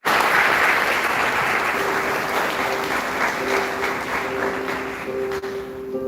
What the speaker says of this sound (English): please welcome with a rousing round of applause